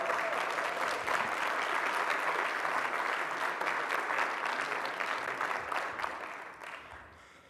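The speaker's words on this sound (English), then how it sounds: "We can have a round of applause." A crowd applauds steadily, dense clapping that holds for several seconds and then fades out.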